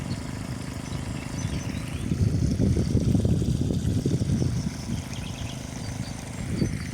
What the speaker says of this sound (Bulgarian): Помпата върви сигурно час и половина вече.